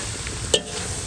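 Beans and carrots sauté in a pan with garlic, onion and pork cubes, making a short, steady sizzle with one sharp scrape or clink of a utensil partway through, no talking.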